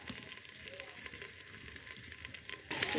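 Potatoes frying in a pan over a wood fire, a soft continuous sizzle with occasional scrapes of stirring, brightening into a louder crackle near the end.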